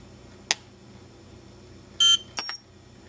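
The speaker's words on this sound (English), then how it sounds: "you heard 2 beeps there, one from the transmitter, the second one from the receiver" Two distinct electronic beeps from an Elite-tek ET-9888 dog training collar, the first a brief buzzy tone from the transmitter and the second a sharper, higher chirp from the receiver, preceded by a small click in a quiet room.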